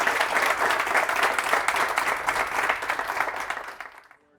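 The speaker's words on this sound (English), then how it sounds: "Big round of applause for the 2020 CEO of the Year" An audience at a corporate CEO talk held at Kin Vineyards breaks into warm, dense applause that holds steady and then fades quickly to silence.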